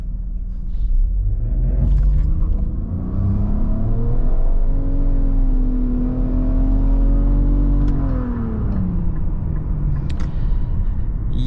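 A 2022 Nissan Rogue with a 1.5-litre three-cylinder engine accelerates hard from a sport-mode brake boost, loud steady rising engine drone heard from inside the cabin, pitch climbing then dropping with an upshift near the end.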